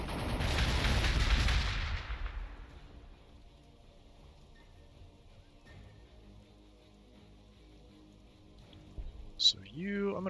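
A heavy burst of gunfire in Warhammer 40,000: Gladius erupts loud at the start and rumbles away over about two seconds, leaving a low ambient hum with a faint click and a short sharp blip near the end.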